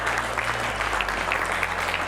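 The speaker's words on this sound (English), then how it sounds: "Give yourself a round of applause." Audience applause at a youth conference, a steady wash of clapping from a sizeable crowd that runs throughout at an even, moderate level.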